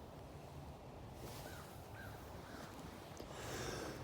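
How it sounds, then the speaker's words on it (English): Deep in a forest, a crow caws far off in three faint, evenly spaced calls, nearly buried under a steady wash of wind noise. "I heard that crow in the distance."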